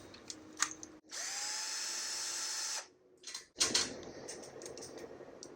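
A handheld power drill fitted with a 1/8 inch bit bores a hole in an electronic matching game. It whines steadily for about two seconds, with light handling clatter before and after the drilling.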